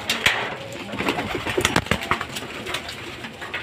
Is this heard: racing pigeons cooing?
yes